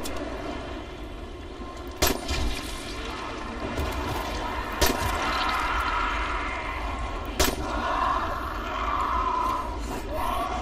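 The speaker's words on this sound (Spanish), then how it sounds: "si disparas con la pistolilla hace ruido" Several sharp pistol gunshots in Dying Light ring out at spaced intervals, about four single cracks over a busy, murmuring game background.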